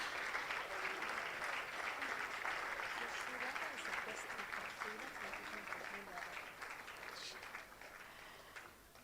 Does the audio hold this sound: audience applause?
yes